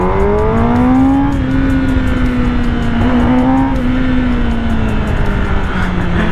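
A Kawasaki ZX-10R superbike engine drones loudly and steadily while being ridden, its pitch rising, then dipping and holding under strong wind noise.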